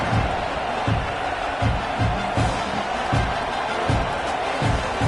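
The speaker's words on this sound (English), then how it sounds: "this crowd is buzzing after that last score" Football stadium crowd at a college game buzzing after a score, a dense, steady roar of many voices with faint rhythmic thumps pulsing underneath throughout.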